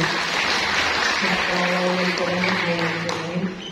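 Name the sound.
audience applause in church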